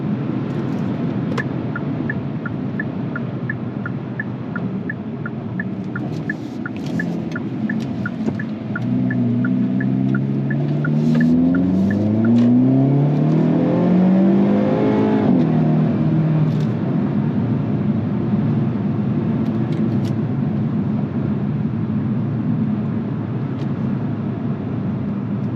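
A Hyundai Kona N hums along steadily in sport mode with a low engine drone and road rumble inside the cabin, a soft beeping chime early on and rising revs sweeping up through the gears midway, no one speaking.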